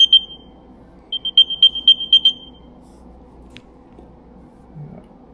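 Apple AirTag playing its Find My locator sound, a series of short high chirps in quick bursts, a pair then a rapid run of about six, fairly close against a quiet room hum.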